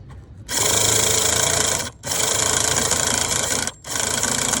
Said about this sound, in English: Let's just try to prime it a little bit.